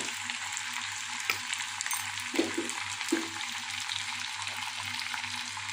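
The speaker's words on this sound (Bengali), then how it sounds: "আরেকবার এইভাবে আমি ভালো করে 1-2 বার নেড়ে ছেড়ে দেব।" Chicken with red chili powder and cumin powder fries in a pan under a steady, moderate sizzle, with a few soft scrapes of stirring.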